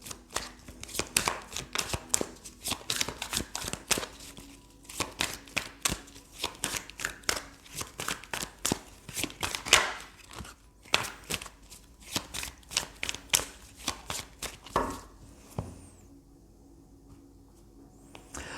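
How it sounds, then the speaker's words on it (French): Oracle cards being shuffled by hand in a long run of crisp, rapid riffling slaps and flutters, close and steady, with short pauses and a quieter stretch near the end. "Alors on va tirer d'autres cartes avec l'oracle des astres."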